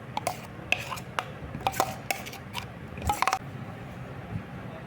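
Urad dal and fresh aloe vera gel being stirred into cold-process soap batter, with close, irregular clinks and scrapes of a utensil against the container and no talking.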